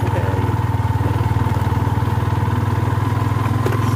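A motorcycle engine running steadily at a close distance, its loud, even idle pulsing throughout with a rapid regular throb and no talk over it.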